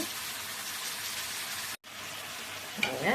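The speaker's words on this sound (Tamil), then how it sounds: "அப்படியே ஒரு அஞ்சு நிமிஷம் எண்ணெயிலே வேகட்டும் சிக்கனை" Chicken frying in oil for a roasted masala dish, a steady hissing sizzle filling the clip, cut off by a brief silent gap, then resuming with a louder crackle near the end.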